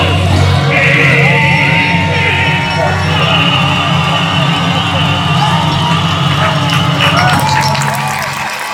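Supporters cheer on runners at the 2-mile point of the Lakeland 100 ultramarathon, leaving Coniston for the fells: steady crowd noise with whoops, shouts and a burst of clapping near the end, mixed with chatter throughout.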